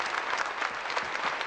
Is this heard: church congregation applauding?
yes